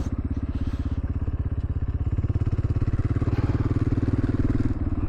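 Motorcycle engine idling close by at a gas station, a steady rapid low throbbing pulse that holds loud and even throughout.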